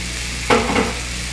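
Spinach and mushrooms sauté in a pan for an omelet, a short burst of stirring and sizzle rising over a faint steady background, then settling again.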